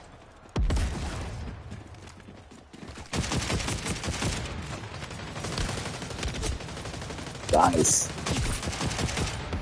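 Rapid gunfire from the online shooter Splitgate crackles in dense bursts and sustained volleys, with near sharp shots over a busy game mix, and someone speaks briefly over it.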